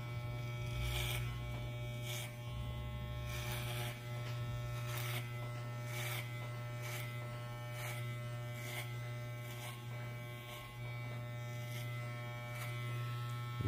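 An electric hair clipper buzzes steadily as it cuts short hair, close but quiet, with a regular rhythmic swelling as it passes over the head about every second and no speech.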